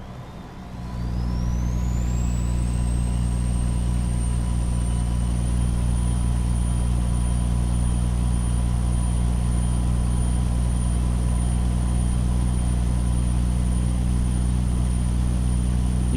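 Steady, loud truck engine drone in American Truck Simulator, driving between El Paso and Waco, Texas, with a rising whine that levels into a constant high tone over a deep, unbroken rumble, no talking.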